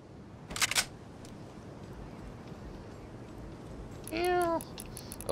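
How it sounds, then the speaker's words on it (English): A cat meows once near the end, a short rising-and-falling cry heard over steady background noise during Fortnite gameplay, after an earlier brief burst of clicking sound. "Oh, you're gonna hear cat in a second."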